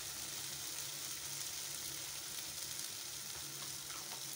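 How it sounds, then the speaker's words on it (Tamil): Spicy egg gravy sizzles and fries steadily in a pan as it is stirred, a continuous close crackle with no talking. "இப்போ நம்ம முட்டை மசாலா நல்லா பிரட்டி விட்டுக்கலாம்"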